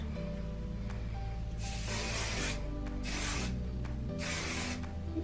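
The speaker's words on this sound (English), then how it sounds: "I'm going to spray all over with this hairspray" Three bursts of hairspray hiss from an aerosol can, each about a second long, over a steady low background hum.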